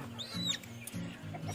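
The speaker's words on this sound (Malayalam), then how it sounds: "ഒരു മാസം കഴിഞ്ഞ് കാപ്പിരി കോഴികളാണ്" Young native Kappiri chicks about a month and a half old, kept at a home farm, give soft repeated clucks and a brief high chirp in short bursts against a quiet background.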